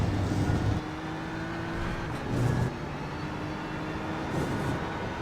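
Simulated BMW M4 GT3 race car engine at Le Mans in iRacing, a steady droning roar that dips as the throttle lifts and briefly swells again, continuous and close throughout.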